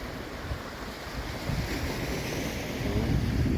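Sea surf rolls onto a beach on Ios in the Cyclades, with a steady wash of waves under gusty wind buffeting the microphone, growing slightly louder toward the end; no one speaks.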